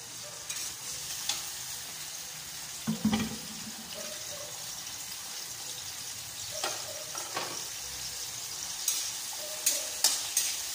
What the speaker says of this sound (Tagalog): At isusunod natin ay yung ating kamatis.